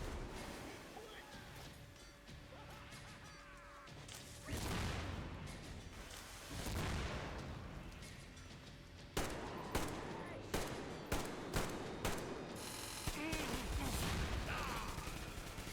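Video-game combat with dense rifle and machine-gun fire, several heavy booms from point-blank grenades, and a run of evenly spaced loud shots, all under intermittent talk.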